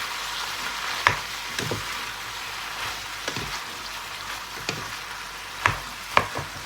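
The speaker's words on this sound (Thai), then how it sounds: "ผัดผักให้สุกนะคะ" Vegetables stir-frying in a pan for instant noodles, a soft steady sizzle punctuated by occasional sharp clinks and scrapes of a utensil against the pan.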